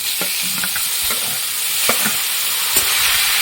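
Loud sizzling in a pan with repeated scraping and stirring knocks, as grated bottle gourd is added to fried bitter gourd in hot oil close by.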